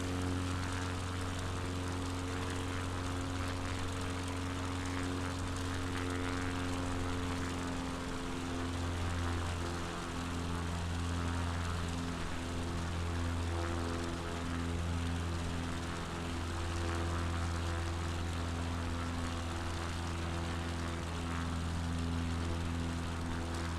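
A propeller aircraft on a straight-in landing approach in Microsoft Flight Simulator 2020, on a Patagonia bush trip, gives a steady, unbroken engine and propeller drone with a constant tonal hum for the whole stretch, with no voices.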